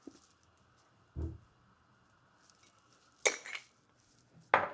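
Metal utensils clink and scrape against a bowl while pizza seasoning is mixed, in a few brief irregular clatters separated by quiet gaps, close and without talking.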